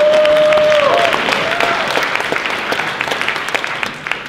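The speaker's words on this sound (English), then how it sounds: "y'all clapping too prematurely" A live comedy audience in Nashville claps loudly. The applause starts as a thick, even roar, then thins into sparser individual claps as it fades. A brief tonal sound is heard near the start.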